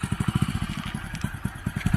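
Motorcycle engine running at a steady idle, a close, even chugging pulse that holds for about two seconds.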